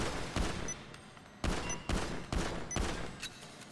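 Pistol fire in the video game GTA 5, a handful of sharp, punchy shots spaced unevenly, each with a brief decaying tail, loud and up close with no talking.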